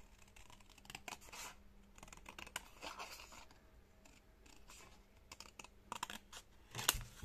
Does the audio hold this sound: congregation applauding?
no